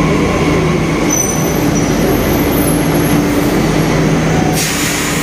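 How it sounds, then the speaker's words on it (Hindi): A Delhi Metro train pulls into a station with a steady, loud rumble of wheels and motors and faint squealing, continuous throughout with no talk. "अभी ये हमारा मेट्रो आ रहा है"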